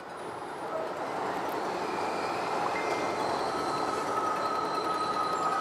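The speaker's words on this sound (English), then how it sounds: "may be surprised to see trains running in between these stations despite their closure" LRT Line 2 trains run along the track between stations, a steady broad rumble of rail traffic with faint high wheel squeals, continuous and moderately loud, with no voices.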